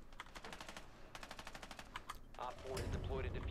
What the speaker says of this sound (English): I'm gonna have to